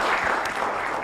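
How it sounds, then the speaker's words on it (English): Brief applause from the audience at a national stakeholders' forum as speakers leave the stage, a dense, even patter of many hands clapping at moderate loudness, lasting about a second. "But a round of applause for them as they exit the stage."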